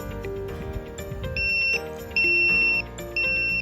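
An ESP32-based posture monitor sounds its buzzer in intermittent bursts, three sustained high-pitched beeps after a stretch of lower busy background, loud and close without speech.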